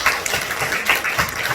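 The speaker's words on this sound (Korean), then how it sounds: "우리 박수 한번 크게." Church congregation applauding together at a pastor's call to honor the children, a dense steady burst of clapping from many hands filling the room.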